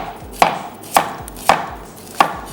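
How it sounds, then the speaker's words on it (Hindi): Garlic cloves are pressed for a Kolhapuri mutton gravy, giving four sharp, evenly spaced crushing knocks about half a second apart, close and fairly loud, with no talking. "लहसुन के कुछ जवे हैं उनको हमने प्रेस कर लेना है"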